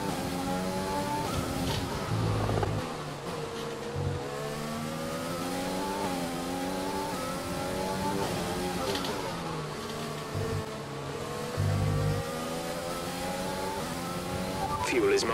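F1 race car engine in the F1 2020 video game during a practice session at the Russian round, rising and falling in steady pitch sweeps through gear changes across the whole stretch, with a voice talking over it at points.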